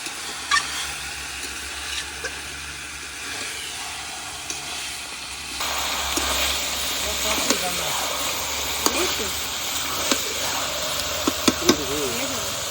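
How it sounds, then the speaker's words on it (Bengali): Food boils down in a pot on a home kitchen stove, giving a steady broadband hiss of steam that grows louder partway through, with a few soft clinks and faint voices in the background. "আমার সামনে বসে মরু জাল দিচ্ছে"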